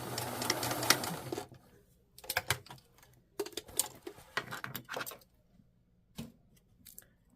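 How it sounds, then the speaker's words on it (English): A sewing machine runs a slight zigzag stitch in short, separate bursts of whirring and clatter, a long run at the start and then several brief spurts with quiet pauses between them. "I need to do a slight zigzag stitch."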